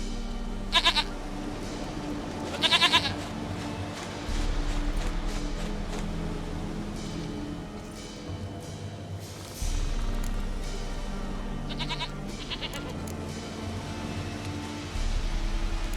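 In The Witcher 3, a goat bleats loudly and close in several short repeated calls, spaced over a steady low background hum.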